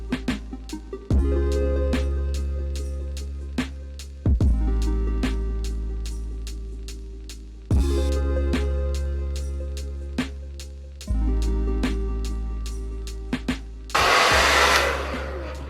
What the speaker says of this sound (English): so I'm going to go ahead and start diffusing my hair